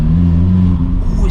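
A Vauxhall Corsa with a straight pipe exhaust rumbles loudly in a low, droning rev heard from inside the car, with a voice speaking over the engine.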